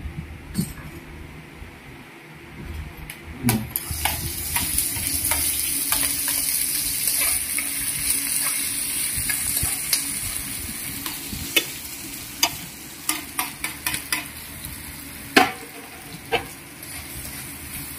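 Garlic frying in cooking oil in a pan, a steady sizzle with repeated scraping and stirring clatters from a utensil throughout.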